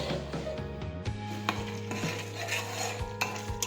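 Pav bhaji with crushed tomatoes being sautéed and stirred in a pan, a steady close sizzle under repeated scraping and clinking strokes of a spoon against metal, continuous with no talking.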